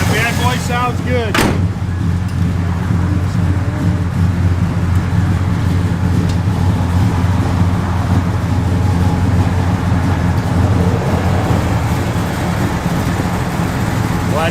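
Steady low rumble of a 1970 Chevrolet Chevelle SS engine idling on pump gas, close and continuous, with a brief clunk near the start.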